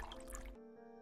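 Water splashing and dripping as a pair of shoes is washed in a pool of water inside a horror adventure video game, a brief, soft wet burst that cuts off abruptly into a quiet ambient drone.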